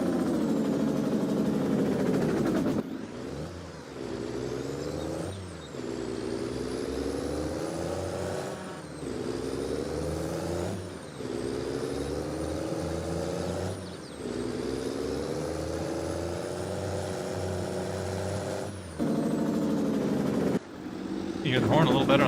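A heavy truck engine in a farming video game revs and drops repeatedly, with a rattling Jake brake growl and hissing air bursts, steady and close.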